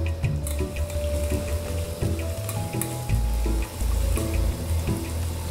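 Ginger garlic paste sizzles and fries in a pan, with a steady crackle broken by scraping stirs and light clinks at moderate volume, and no voices.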